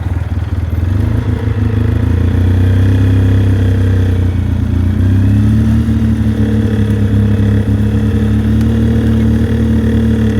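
A 2006 Polaris Sportsman 800 ATV engine in low gear with light throttle held on, a loud, steady low drone with a slight shift in pitch midway, close up and constant throughout.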